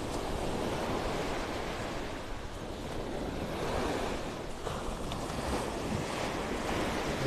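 Ocean waves wash and curl onshore at Vanderbilt Beach, North Naples, Florida, in a continuous rolling roar, with wind gusting across the microphone.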